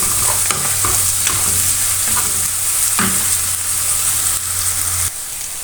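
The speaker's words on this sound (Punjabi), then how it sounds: "ਇੱਕ ਚਮਚਾ ਅਦਰਕ ਤੇ ਲਸਣ ਦੇ ਪੇਸਟ ਦਾ ਇਹਨੂੰ ਵੀ ਚੰਗੀ ਤਰ੍ਹਾਂ ਵਿੱਚ ਬਰਾਊਨ ਕਰਾਂਗੇ" Ginger garlic paste browning in hot oil for baingan bharta, with a loud steady sizzle and a few scraping stirs of a spoon, continuous until a slight drop near the end.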